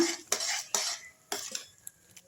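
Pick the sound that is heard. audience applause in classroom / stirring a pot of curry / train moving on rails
stirring a pot of curry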